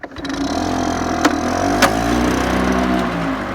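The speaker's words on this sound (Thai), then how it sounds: "เดี๋ยวสตาร์ทเครื่องให้ดู" An old Honda two-stroke 3.5 hp lawn mower engine catches and runs at a steady, loud idle, its close, even drone holding throughout with two brief sharp clicks partway through.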